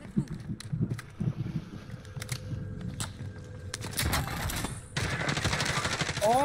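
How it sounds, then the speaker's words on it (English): Gunfire in the Call of Duty Warzone video game, with scattered sharp shots and rapid bursts of varying loudness, some close and some distant, mixed with footsteps and game effects. "I'm getting shot from the other building."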